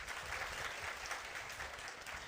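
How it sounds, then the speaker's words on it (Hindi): An audience at a religious gathering claps steadily and fairly faintly, a continuous wash of hand claps with no pauses and no voices rising above it. "ये ताली विपरीत नहीं बजती"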